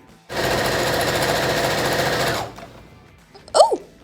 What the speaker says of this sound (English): Now for the outer skirt, sew this edge down as well.